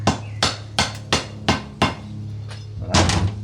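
A hammer strikes a black plug into a rooftop tent fitting in about eight sharp, evenly spaced whacks, loud and close, over a low steady hum.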